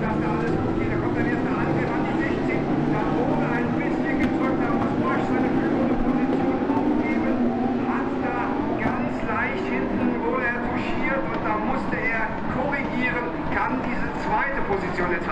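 A pack of 22 Lamborghini Super Trofeo race cars of 620 horsepower rolling into the Mercedes Arena section of the track, a sustained, blended engine drone filling the clip while a commentator talks over it throughout.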